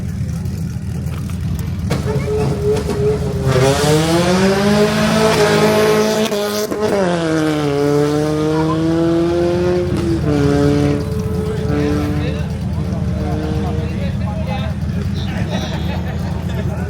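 A race car launches from the start of a mountain hill climb in Brazil, its engine revving hard and climbing in pitch through repeated gear changes, loud and close, with someone talking over the noise.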